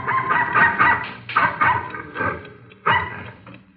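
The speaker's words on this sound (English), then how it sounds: "the occupants were awakened by the barking of a dog" Dog barking as a radio drama sound effect, a run of loud, close barks in uneven bursts with brief pauses, heard alone without voices.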